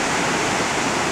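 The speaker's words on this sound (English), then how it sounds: "mountain river in Wisla." Cold, clear blue mountain river in Wisla rushing steadily, a dense continuous roar of flowing water close by with no pauses or voices.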